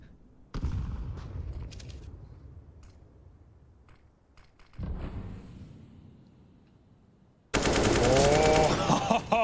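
Automatic rifle spray during a professional Counter-Strike match between Liquid and Fnatic in the ESL Pro League playoffs: rapid bursts of gunfire, a quieter stretch, then a loud sustained volley of shots.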